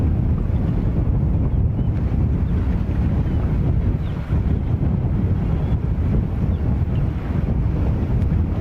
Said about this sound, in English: Right now, the wind speeds are about 19 miles an hour at JFK this afternoon.